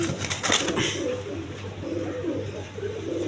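Rajgolla pigeons coo in soft, repeated throaty phrases close by, with some rustling or wing sounds near the start and faint background noise beneath.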